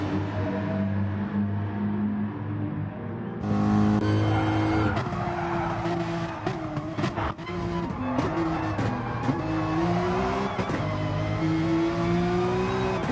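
Race cars at Mount Panorama in Gran Turismo Sport scream past with hard-revving engines climbing through gears, tires squealing and skidding, loud and close with overlapping engine notes.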